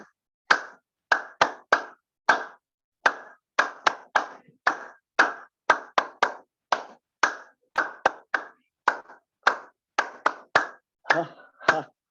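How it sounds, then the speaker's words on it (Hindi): A group claps hands in quick, irregular bursts at the close of a morning yoga session, dozens of crisp sharp claps, loud and near with brief pauses between them. "मस्ती के साथ ताली वादन कीजिए"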